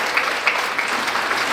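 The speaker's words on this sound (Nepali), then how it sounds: "एकचोटि जोरदार तालीले" An audience at a student award ceremony claps steadily, a dense, even wash of applause from a large crowd, loud and sustained.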